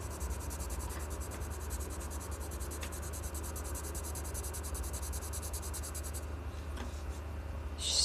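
Derwent colored pencils scratch steadily across coloring-book paper in close, continuous strokes, over a constant low hum.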